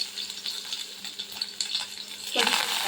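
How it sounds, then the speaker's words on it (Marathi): Hot oil sizzles and crackles steadily with tempering spices and dal, then a louder burst of frying hiss erupts near the end as something is dropped into the pan. "गव्हाच्या भाजीला फोडणी देते"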